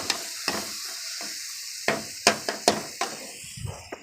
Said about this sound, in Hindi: अब हमने इसको अच्छी तरह से भून लेना है।